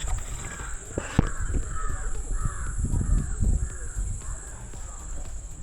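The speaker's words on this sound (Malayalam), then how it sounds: "കാക്കയുടെ സൗണ്ട്, കുറേ മൃഗങ്ങളുടെ സൗണ്ടൊക്കെ കേൾക്കുന്നുണ്ട്." Several crows caw outside a house in a repeated series of harsh calls, fairly close, over a steady high-pitched background hum.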